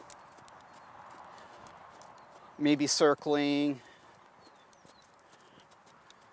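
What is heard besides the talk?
horse hooves moving near mounting block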